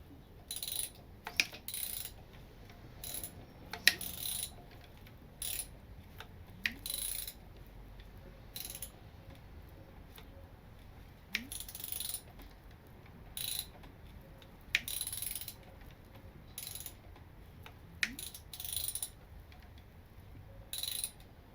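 Quiet mechanical clicks and ratcheting ticks repeat at irregular intervals as an abandoned GM Ecotec L61 engine is slowly turned over by hand.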